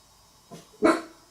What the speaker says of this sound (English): isn't he like the yappiest dog in the world?